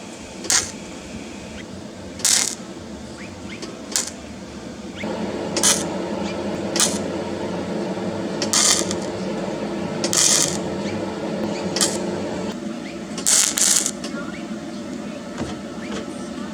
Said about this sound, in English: Got the welder hooked up and we're ready to go.